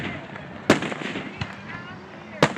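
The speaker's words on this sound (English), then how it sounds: "Beautiful fireworks, ain't it?" Fireworks burst on the night of July 3rd, with two sharp loud bangs and a softer pop between them, each followed by crackling, and a voice in the background.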